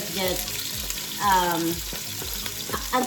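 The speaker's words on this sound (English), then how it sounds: "Let me saute the onion first." Onion sautes in a pan for a beef and peanut curry with ham hock, a loud continuous sizzle under repeated rhythmic scraping strokes of a utensil, close and without talk.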